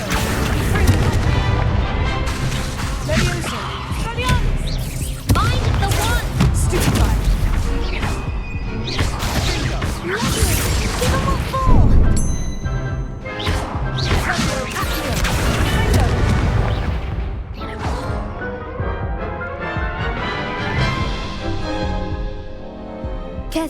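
Spell blasts in the Hogwarts Legacy video game, with fiery Confringo bursts and Leviosa casts: repeated loud booms, crashes and whooshes in quick succession over a dense game soundtrack, with voices speaking throughout.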